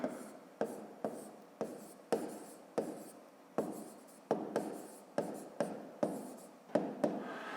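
A pen writes a subtraction check by hand on paper, with a quick series of short scratchy strokes, each starting with a small tap, close and fairly quiet in an otherwise silent room.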